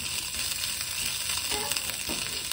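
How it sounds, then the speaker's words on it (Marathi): Cumin and coriander seeds with ginger, garlic and chilli sizzle in hot oil in a pan, a loud, continuous crackling hiss with small pops, heard close up and without talk. "तेल थोडंसं गरम झालं की इथं जिरा आणि धने टाकले."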